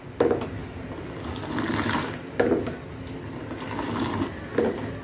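Boiling cardamom tea with sugar being stirred in a pan, bubbling liquid with repeated scraping swirls recurring about every two seconds, close and fairly quiet.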